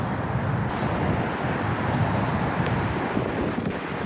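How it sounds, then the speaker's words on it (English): Wind gusts steadily across an outdoor microphone, producing a loud, continuous rumbling buffet with no pauses over a few seconds, with no voices. "It's kind of windy."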